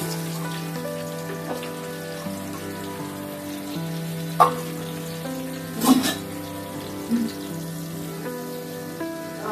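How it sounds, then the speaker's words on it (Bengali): Eggplant pieces coated in salt and turmeric frying in hot oil, a steady hissing sizzle running throughout beneath tonal background music, with a few louder spits and pops near the middle. "তেল গরম হয়ে এসেছে, এবারে দিয়ে দিব লবণ হলুদ মেখে রাখা বেগুন।"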